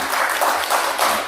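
Brief burst of applause from an audience at an indoor government and civil society meeting at the Korea Press Center, a dense, moderately loud patter of many hands lasting just over a second.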